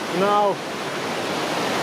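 Sweden's highest waterfall rushes in a steady, broadband roar that fills the whole stretch, with a single short spoken word near the start.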